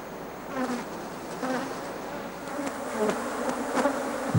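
Africanized honey bees buzzing in Brazilian forest, a swarm of droning wingbeats with individual bees swelling and fading as they pass close by, continuous and fairly loud with no voices.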